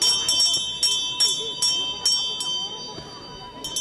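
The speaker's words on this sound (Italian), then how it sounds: "Perché suona la campana?" A bell rings outside a courtroom during a trial opening, with repeated bright strikes at a steady pace over crowd murmur and voices.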